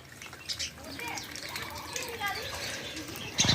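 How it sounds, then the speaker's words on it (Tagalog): Many birds and ducks near a yard in Nepal chirp and call faintly over a quiet outdoor background, with soft bird sounds scattered throughout and a brief louder rustle at the end. "Ang daming ibon."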